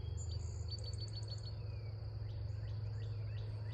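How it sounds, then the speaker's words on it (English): Birds sing in a backfield at sunset, faint and distant chirps and short repeated calls over a steady low hum and insect-like background. "And here's the sunset backfield. The birds."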